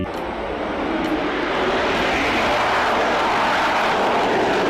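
Steady, loud airplane engine roar from a very large toy passenger plane, a continuous broadband drone that holds level throughout with no voices over it.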